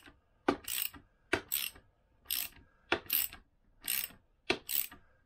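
A ratchet tightening a Vespa PX crankshaft assembly during an engine rebuild, sounding as six evenly spaced rounds of quick clicking strokes, close and fairly quiet with short pauses between.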